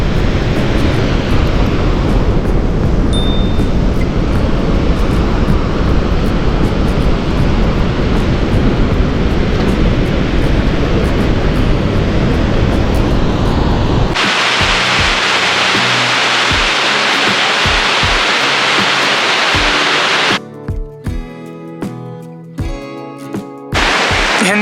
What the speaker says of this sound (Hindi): वो रहा सामने भीम पुल और सरस्वती नदी।